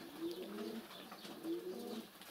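Pigeons at a dovecote give two soft, repeated cooing phrases, nearby but faint, with a low murmur of background noise between the calls.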